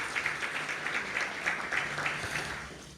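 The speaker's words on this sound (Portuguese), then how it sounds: "Nós queremos recebê-los com um aplauso." An audience at a Brazilian testimonial gathering applauds warmly, a moderate, steady wash of clapping with rhythmic accents, fading gently toward the end.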